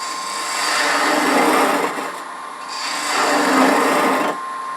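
A hollowing tool cutting into the concave bottom of a wooden hollow form on a lathe, a loud close rasping scrape that swells and eases in two long passes, without talk.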